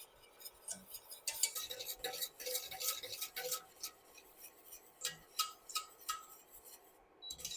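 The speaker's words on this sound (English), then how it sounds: "You have to whisk until you get the thicker consistency." Fruit curd thickened with cornstarch being whisked in a pot, a fast irregular clatter and ticking of wires against the metal, close and moderately loud, in bursts with brief pauses.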